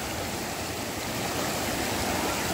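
Steady rushing water of a flowing stream, broadband and continuous with no pauses, fairly close and moderately loud.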